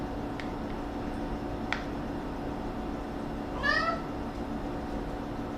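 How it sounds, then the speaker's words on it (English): A single drawn-out cat meow rises and falls near the end, over a quiet background hum with a couple of faint clicks. "If you hear my cat, it's because you're gonna hear my cat."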